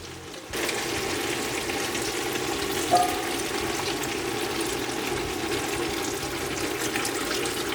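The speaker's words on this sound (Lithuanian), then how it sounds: "čia dar kokį litrą verta įpilti sultinio" Broth pours steadily into a pot after a brief quiet start, a continuous rushing splash that lasts to the end.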